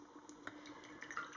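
A paintbrush is rinsed in a water pot during a watercolour rose painting, giving faint, close little splashes and drips in a quiet room.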